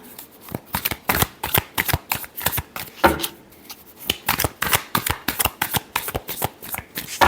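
Tarot cards are shuffled briskly by hand, a dense run of rapid riffling flicks and slaps close up, continuous and loud with no voices.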